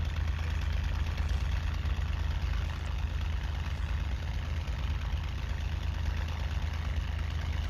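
A Hawker Hurricane aircraft engine idles while warming up in a flight game, a continuous dense low rumble holding steady and loud throughout.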